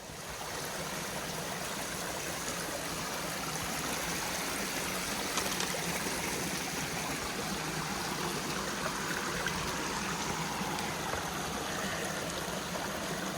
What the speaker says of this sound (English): while I have this beautiful babbling brook next to me